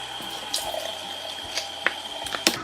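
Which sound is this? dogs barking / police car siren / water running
water running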